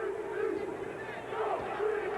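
A large crowd in a basketball arena at a 1995 NCAA Tournament second-round game, Stanford against UMass, roars in a steady, distant wash of cheering and yelling.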